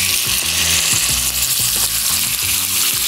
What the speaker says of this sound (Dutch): De slavinken kunnen in de hete olie.